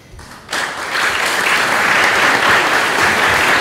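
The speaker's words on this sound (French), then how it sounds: "On va pas s'applaudir à chaque coup." Audience applause at a French conference on ecological challenges, swelling to a loud, steady wash of many hands clapping close by and holding at full strength without any speech.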